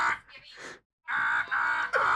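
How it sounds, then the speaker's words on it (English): A friend's recorded wild scream, used as a loud timer, comes in strained vocal bursts with a brief silent gap before a sustained, intense wail. "I recorded a clip of her just going mad and now I use it as my timer."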